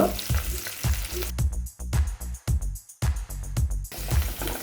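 A sizzling tempering of urad dal, fenugreek seeds, curry leaves, red and green chillies and asafoetida crackles in hot oil for a South Indian potato bhaji, with a steady fry punctuated by repeated sharp pops and stirring scrapes, close and alone.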